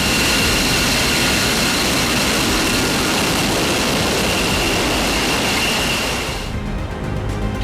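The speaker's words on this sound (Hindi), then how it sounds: "F-22 इस समय दुनिया के शानदार लड़ाकू जेट में गिने जाते हैं।" Roaring jet engine of an F-22 fighter, a loud, steady broadband rush that holds for several seconds before cutting off abruptly near the end, with no voices.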